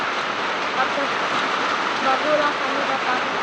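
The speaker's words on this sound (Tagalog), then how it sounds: "Lumalakas talaga ang ulan, te." Heavy rain pours down steadily in a dense, continuous hiss, with a person speaking briefly over the downpour.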